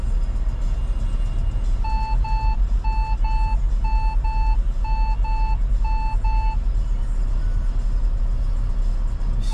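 A vehicle backing up gives a steady series of paired electronic reversing beeps over loud, constant engine rumble, close by, with the beeping stopping partway through.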